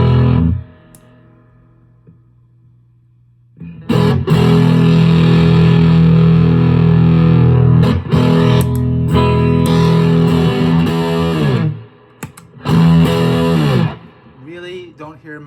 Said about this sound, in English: let's listen to the Mason pushing the Harlot with the Harlots in high gain mode.